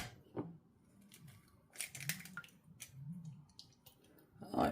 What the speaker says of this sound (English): Oh, I broke that right in the shell.